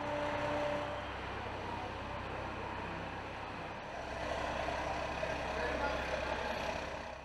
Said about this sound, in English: the most extraordinary amphibious vehicle ever built is the 8-wheeled amphibious combat vehicle.